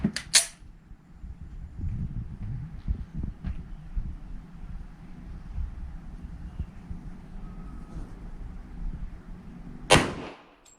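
Two sharp gunshots while zeroing a gun's sights at a 10-metre range: one crack at the start, a second about ten seconds later, with low rumbling background between.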